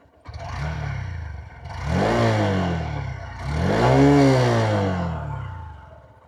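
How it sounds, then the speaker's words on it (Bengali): A Honda SP 125, a 125 cc motorcycle, revs its engine three times in close succession. Each throaty exhaust burst rises in pitch and falls away, with the last two louder and longer. The bike is near and no one talks over it. "অ্যান্ড এই হচ্ছে এক্সস্টের সাউন্ড।"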